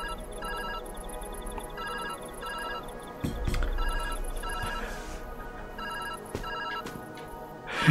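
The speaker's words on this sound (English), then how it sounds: "Phone call from Jesse!" Phone ringing in the puzzle video game Viewfinder, a repeating electronic ring in bursts over game music and effects, fairly loud and steady throughout.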